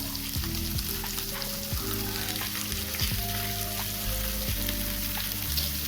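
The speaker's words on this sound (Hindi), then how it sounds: "तो चलिए पटल को थोड़ी देर फ्राई कर लिए हैं, अब यहीं पे डाल देते हैं आलू।" Pointed gourd and potatoes fry in an open pan with a steady, close sizzle, broken by repeated scraping strokes of stirring at an irregular rhythm, with no talking.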